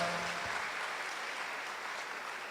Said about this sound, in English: Another round of applause for our Deputy Principal.